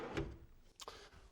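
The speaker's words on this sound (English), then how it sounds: "We'll slide the drawer in." A drawer slides into a drill press center cabinet leaned against a workbench: a short wooden scrape and bump, then a second quick rub and knock about half a second later, fairly close and fairly quiet.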